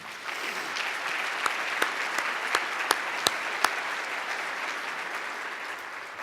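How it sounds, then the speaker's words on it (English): Audience at an economic forecast event breaking into full applause, a dense, even roar of many hands with a few sharper claps standing out near the front, sustained at steady loudness. "Please join me in giving them a round of applause."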